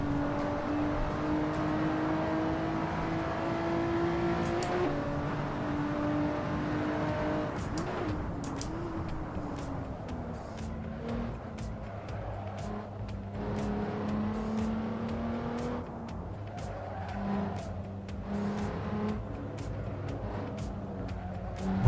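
Race car engine in Assetto Corsa Evo on its final lap, a steady droning whine that rises and falls with shifting pitch, with brief bursts of other noise, continuous and close throughout.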